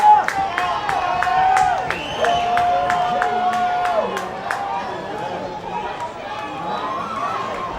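Baseball crowd at a Long Island Ducks versus Lancaster Barnstormers minor league game, rallying behind a batter: sustained crowd noise with rhythmic clapping and cheers, steady and fairly loud with a commentator talking over it.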